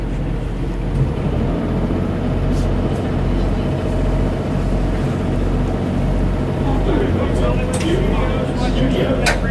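A steady engine drone with a low throb as a Walt Disney World Friendship Boat moves across water in the evening, people talking faintly over it, a few sharp knocks near the end.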